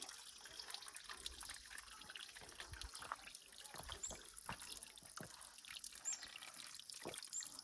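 Cold spring water trickles from a hill source into cupped hands, a steady soft splashing with faint broadband hiss and scattered small drips close by.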